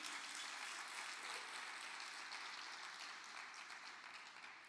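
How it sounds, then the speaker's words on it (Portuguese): Steady, dense applause from a church congregation during an evening worship service, a continuous broadband wash of clapping that holds for several seconds and tapers slightly near the end, with no talk over it. "Dê um forte aplauso ao Espírito Santo"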